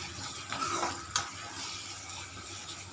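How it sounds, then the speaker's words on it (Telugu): Ginger garlic paste frying with onions in a pan, a quiet, uneven sizzle with light stirring scrapes and a few small clicks, close and without talk. "అల్లం వెల్లుల్లి పేస్ట్ యాడ్ చేసాం కదా, బాగా కొంచెం ఫ్రై అయింది"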